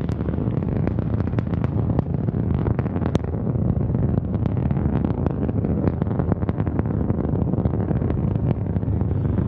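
Antares rocket carrying the Cygnus NG-16 spacecraft at full first-stage thrust, a steady, dense, roaring rumble with heavy low-end and crackling bursts, continuous and loud throughout with wind buffeting on the microphone.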